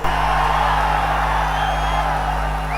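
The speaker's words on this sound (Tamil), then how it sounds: "குமராபாளையத்தில் நடைபெற்ற கூட்டத்தினுடைய ஆரவாரம் செவிய தொலைச்சுக்கிட்டு போக போகுது" A large crowd roars and cheers without pause at a Kumarapalayam election campaign rally, the noise steady, loud and dense throughout with no individual voice standing out.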